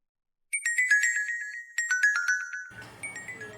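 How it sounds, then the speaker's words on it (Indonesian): A phone plays a bright, melodic ringtone in two repeating tinkling phrases, clear and close, followed by faint background noise as it stops. "Saya harus jawab telepon dulu."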